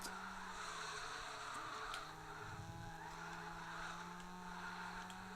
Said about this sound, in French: Énorme drift.